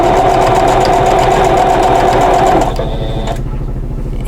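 A sewing machine stitches a quilt block seam in a fast, steady motor hum with rhythmic needle chatter, close and loud, then slows and stops near the end.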